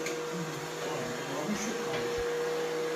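A small robot vacuum cleaner runs indoors in a home, giving a steady, moderately quiet motor whine with a constant tone and faint bumps as it moves, low and continuous for the whole stretch.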